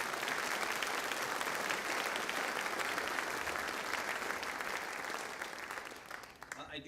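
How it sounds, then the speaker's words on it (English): Steady, dense audience applause for attorneys at a Michigan Supreme Court community event at Southwestern Michigan College, loud and continuous before tapering off at the end. "So please give a round of applause to our attorneys here today"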